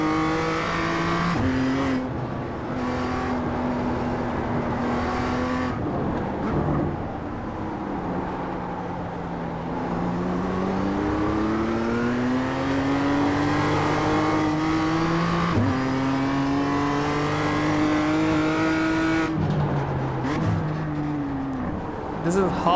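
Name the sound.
BMW M2 race car driving in iRacing video game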